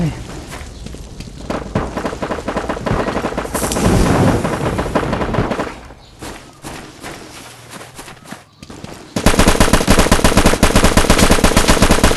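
A gun turret fires in the video game LifeAfter, loud continuous bursts of heavy machine-gun shots with booming impacts, pausing briefly before a harsh, sustained volley resumes; a voice talks over parts of it.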